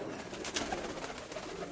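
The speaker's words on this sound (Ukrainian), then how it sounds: "А ось голубок, глянь. Червонорябий." A red-speckled, white-tailed pigeon coos softly outdoors, a low murmuring call under steady background noise and no talk.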